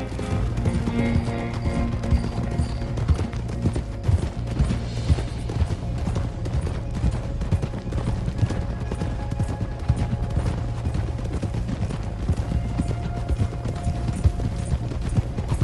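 A horse galloping in Red Dead Redemption 2: continuous, rapid hoofbeats drumming at a steady rhythm over ground for the full length, close and fairly loud, with faint rattling tack and no talking.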